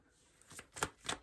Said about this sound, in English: I've been shuffling my deck so vigorously